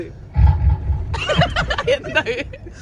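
A person makes a deep, rough bellowing sound imitating a buffalo, followed by breathy vocal noises and chuckling.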